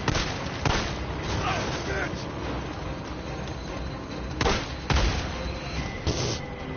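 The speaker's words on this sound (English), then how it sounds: "Just a small explosion" Explosions and gunfire in the video game Days Gone: several sharp booming blasts stand out over a dense, roaring background of combat noise, with a voice speaking during the action.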